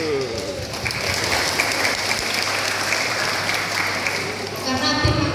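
Audience applause at a Christmas service of a GKE church congregation in Kalawa, a dense steady clapping filling the room for several seconds and fading near the end.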